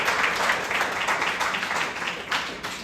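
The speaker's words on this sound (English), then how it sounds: "All right, round of applause for Haley," A crowd at an AI startup pitch showcase claps for a team, a dense, fairly loud burst of applause that swells and fades slightly over a few seconds.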